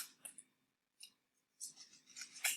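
Scissors snip through a sock, cutting it into strips, with a few quiet crisp cuts separated by pauses and then a quicker cluster of snips near the end.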